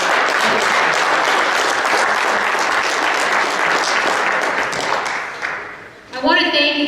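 A conference audience at a construction industry event gives a strong round of applause, dense and steady clapping that fades near the end before a voice comes in.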